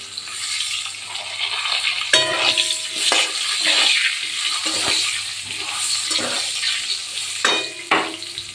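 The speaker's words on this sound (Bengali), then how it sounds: "এবার তেলে দিয়ে দিলাম কালো জিরে, আর দিয়ে দেবো আলু। সামান্য একটু নুন দিয়ে ভেজে নেব।" Potatoes fry in oil with black cumin and salt, making a moderate, continuous sizzle broken by repeated scraping stirs and clinks of a utensil against the pan at close range.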